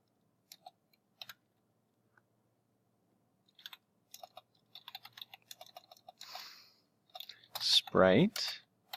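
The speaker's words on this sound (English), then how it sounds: "Got to type exactly the correct way" Code typed on a computer keyboard, scattered quiet key clicks in short bursts, followed by louder sounds near the end.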